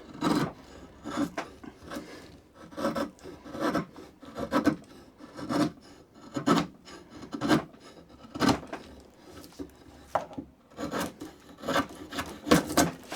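A draw knife shaving splintery jarrah hardwood in short, rhythmic rasping strokes, about one every second, close and crisp with no talking.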